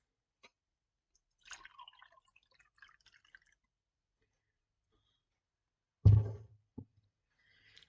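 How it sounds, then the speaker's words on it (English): A short liquid splash and trickle as a jug is tipped into a glass, one brief loud gush followed by a smaller drip, after a few quiet knocks of handling the glass and jug. "And they poured out this glass that didn't look like water."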